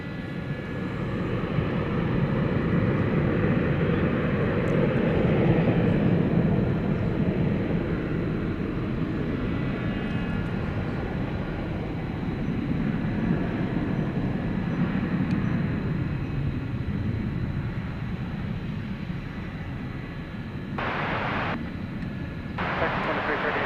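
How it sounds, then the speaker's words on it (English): An American Airlines jet airliner departs DFW Airport, a sustained rumbling engine roar strongest early and gradually easing, with faint radio chatter and a couple of short bursts near the end. "American Flight 1162 off to Ontario, California."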